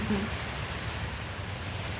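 Light rain begins falling as a soft, steady patter and hiss, faint and even, with a brief low hum at the start.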